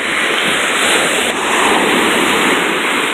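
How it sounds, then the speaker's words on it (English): Ocean waves roll in at a Mexican resort beach, a loud, constant wash of surf noise with a broad rushing hiss and no distinct breaks, close to the microphone. "The waves keep coming in"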